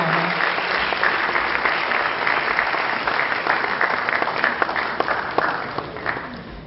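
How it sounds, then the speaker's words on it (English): Sustained audience applause for a guest of honor at an event at ISB, dense and steady clapping from a large crowd throughout, with no talk over it. "Could I please have a big round of applause for our guest of honor?"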